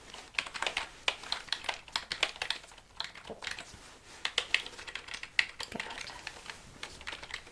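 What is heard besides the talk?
typing on a computer keyboard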